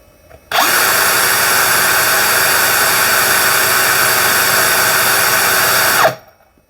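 A Bosch GSR 18V-55 cordless drill with a 1.5mm bit whirs steadily at high speed for several seconds, starting and stopping abruptly, close and loud with no talking.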